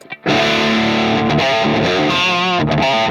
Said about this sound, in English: the 2C has a great distortion, it's a little more focused, a little more old school